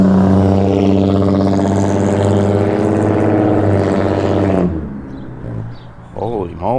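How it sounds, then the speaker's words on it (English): A car with a loud, faulty muffler roars past close by, a harsh, droning engine rumble that holds for several seconds and then cuts away, followed by someone talking. "Holy moly, that car needs a new muffler or something."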